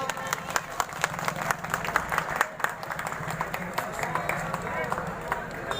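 Crowd clapping at a political rally gathering, brisk uneven claps with a loud murmur of voices underneath, continuous for several seconds.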